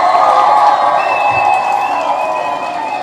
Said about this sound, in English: let's give Katie a huge round of applause